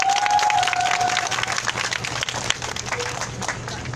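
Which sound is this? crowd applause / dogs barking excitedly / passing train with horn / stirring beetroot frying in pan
crowd applause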